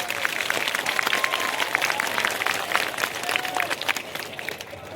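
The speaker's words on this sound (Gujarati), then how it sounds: "તો પહેલા બે હાથ ઊંચા કરીને તાળીઓથી જિગ્નેશભાઈને વધાવો" A rally crowd applauds to welcome Jignesh Mevani, a steady patter of many hands clapping at a distance under faint voices.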